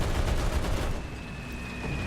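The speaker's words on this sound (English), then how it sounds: "That machine gun sounds new." Gunfire from a machine gun in the War Thunder arcade battle, a dense loud rattle of bursts at first, then a steadier rumble with a whine over it.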